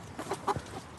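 Several newly arrived chickens cluck nearby in short, uneven bursts, with a few louder clucks standing out over a quiet background.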